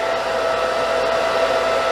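A blow dryer runs steadily and loudly during a haircut, drying and smoothing a client's hair for a true A-line cut. The airflow is a continuous, even whoosh with a faint high whine and no pauses.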